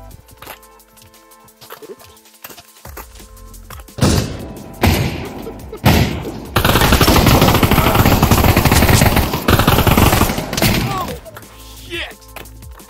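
Gunfire in the multiplayer VR shooter Pavlov VR, with single loud shots around four and six seconds, then a long sustained automatic burst lasting several seconds, quieter game sounds and voices before and after.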